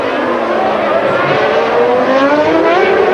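Formula 1 race cars lapping the street circuit at the 1992 Monaco Grand Prix, with loud, sustained high-pitched engine whine and rising gear pitch sweeps running the whole time, close and dense with no pauses.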